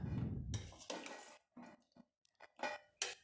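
A spoon stirring amla pickle with vinegar in a Kerala-style gooseberry pickle, giving irregular clinks and scrapes against the container, bursts separated by short pauses, close and fairly quiet.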